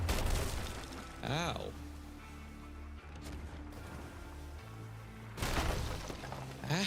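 Cannon fire in a video game: deep booming blasts and crackling bursts come in clusters at the start and again near the end, with players talking and yelping between them.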